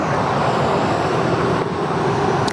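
A Cathay Pacific Airbus A350 departing Sydney Airport for Hong Kong, its engines a loud, broad, steady roar that fills the whole moment without a break.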